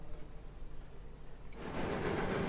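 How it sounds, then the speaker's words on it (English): A train passes close by, its broad rumbling roar swelling suddenly and staying loud after a quieter stretch of low background hum. "The train goes by."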